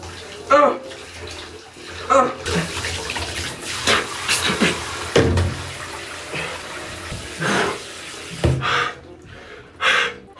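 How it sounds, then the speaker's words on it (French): Water splashes and runs close by as face paint is rinsed off, in uneven bursts of splashing and gushing, with a person gasping and talking in between. "Alors, on va se rincer."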